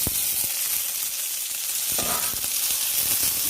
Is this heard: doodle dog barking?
no